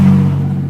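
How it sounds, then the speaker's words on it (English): A truck drives past on a city street, a loud, steady low engine rumble that swells at the start and then holds and fades slightly over a brief moment. "here comes the truck"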